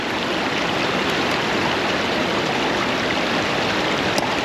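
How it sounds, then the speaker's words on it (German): A wild mountain stream rushes and splashes during gold panning, a loud, continuous broadband roar close by, steady throughout with no voices over it. "Weil der Bach ziemlich wild ist"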